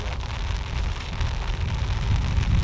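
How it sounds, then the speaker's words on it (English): Heavy rain pours down outdoors at horse stables, a steady, dense roar of drops hitting surfaces with no let-up and no voices. "it's starting to rain. It's raining very hard right now."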